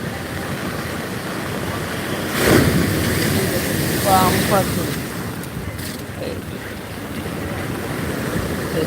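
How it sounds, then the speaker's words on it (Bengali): Big sea waves surge and crash at Old Digha beach during rain, a steady broadband roar with swells of louder surf under wind and rainfall, while voices talk faintly over it. "আজকের ওল্ড দীঘা সমুদ্র সৈকতের সেই ভয়ঙ্কর রূপে তৈরি আসা সমুদ্রের ঢেউ"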